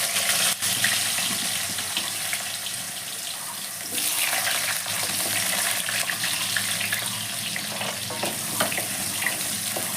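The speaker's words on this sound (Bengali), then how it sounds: "এবার আমি ওই তেলেই আলুগুলোকে ভেজে নিচ্ছি" Potatoes frying in oil for a Bengali katla fish curry, a continuous broadband hiss and crackle of sizzling oil that stays fairly steady throughout, with no talk over it.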